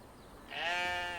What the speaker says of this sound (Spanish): tengo que llevar a las ovejas a pastar al cerro